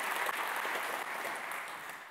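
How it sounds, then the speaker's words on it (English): Audience applause after a talk on change management, dense steady clapping that fades slightly toward the end. "A round of applause for Steve."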